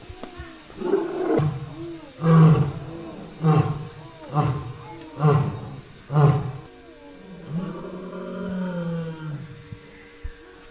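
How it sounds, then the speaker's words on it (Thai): A lion roars at a Thai zoo, Khao Suan Kwang in Khon Kaen, in a series of five or six loud, rhythmic, deep grunting bursts that fade into a softer, drawn-out moan. "จะดูสิงโตร้องดีกว่า"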